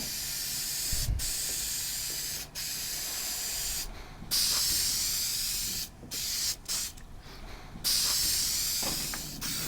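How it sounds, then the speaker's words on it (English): Contact adhesive sprays from a can onto cushion foam in long loud hissing bursts separated by brief pauses and short stops, close to the listener with no talking. "Something to remember with contact adhesive is you need to spray both sides and then let it start to set for a short period before you actually connect them together."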